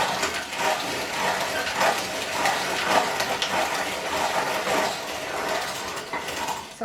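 A hand-cranked manual wheat grinder turns steadily, giving a continuous mechanical grinding and ratcheting rasp with a loose rhythmic pulse, close and fairly loud, with no voices over it.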